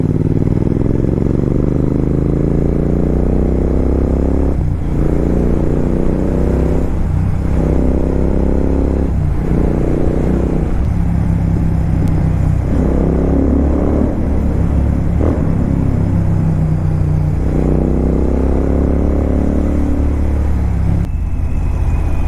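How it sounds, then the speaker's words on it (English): A Mercedes-AMG car's engine is revved repeatedly while parked at a farm house. Loud, close bursts climb and fall back about every two to three seconds over a steady idle rumble, with no talking. "Now we can give some rev."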